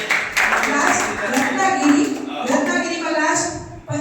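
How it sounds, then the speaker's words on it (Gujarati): An audience at a tuition-class quiz competition applauds a contestant, steady dense clapping that goes on for about four seconds with voices mixed in underneath. "તાળીઓથી વધાવો."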